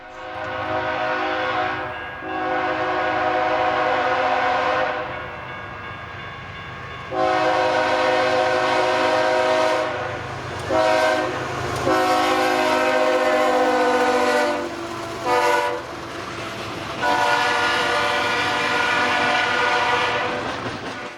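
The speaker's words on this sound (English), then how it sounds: "a southbound trash train HSEAROO throttles up" A southbound garbage freight train throttles up near an old station depot on the Seattle Subdivision, its diesel engines droning loud and steady with strong harmonic tones, swelling in surges with brief dips, with no voices over it.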